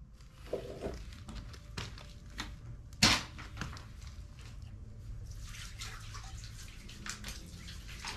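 Water poured out during a search for buried treasure in Mexico: a continuous, fairly quiet splashing hiss with a sharp knock partway through.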